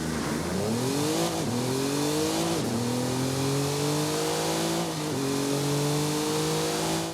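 An Audi RS 5 Coupe in the racing game Forza Horizon 5 revs hard and accelerates through several gear changes, its engine note climbing in pitch between each shift, loud and constant throughout.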